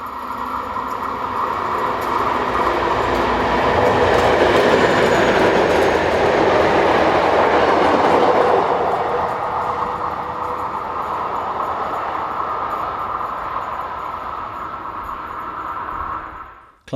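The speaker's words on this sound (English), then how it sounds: "203-309 restarts its journey south after being looped to allow faster trains to pass" Locomotive 203-309 pulls away southward after being held in a loop, a steady loud rumble of engine and rolling wagons swelling to a peak midway and then easing slightly, with no voices.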